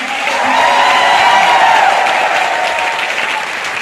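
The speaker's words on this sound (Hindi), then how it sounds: "एक बार आपको अपनी मिट्टी के लिए भी तालियां बजानी चाहिए।" Audience at a live motivational meet-up in Jaipur bursts into sustained, dense applause that swells and then holds steady, close and loud, with a few scattered whoops.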